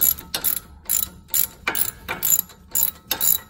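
A ratchet wrench works a 13 mm brake caliper bolt on a RAM 1500 front brake, making rapid bursts of close metallic clicking, about seven strokes in a regular rhythm with brief pauses between, with no talking.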